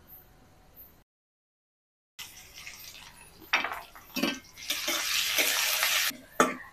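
Crushed ginger, garlic and green chili hit a hot pan, producing a loud sustained hiss and sizzle with a few clattering stirs, after a quiet start and a brief silent gap.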